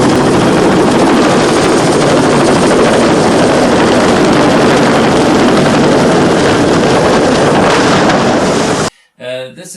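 A drone hovers close above a foldable waterproof landing pad, giving a loud, steady, broadband propeller whir for about nine seconds before cutting off abruptly.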